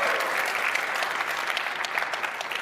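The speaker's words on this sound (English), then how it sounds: "So you guys can cheer if you want" An audience at a live Robinhood product launch event claps and cheers in a steady, continuous wash of applause, heard from within the crowd and without pauses.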